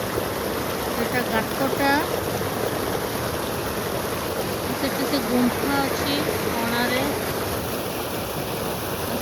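River water flows steadily at a Baruni mela on the Gangahar river, a continuous rushing wash running under the whole stretch while people talk over it at intervals.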